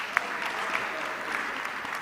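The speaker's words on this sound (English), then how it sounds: "if you're clapping, go ahead and clap" An audience at a youth leadership summit applauds steadily, a dense wash of clapping that holds at an even level for the full two seconds.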